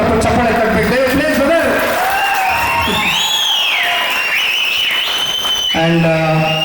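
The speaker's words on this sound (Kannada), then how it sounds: "ನಿಮ್ಗೆಲ್ಲರಿಗೂ ಜೋರಾಗಿ ಚಪ್ಪಾಳೆ ಕಟ್ಟಬೇಕು" A crowd at a film song press meet claps and cheers loudly and continuously, with a voice talking over the applause and tonal music entering toward the end.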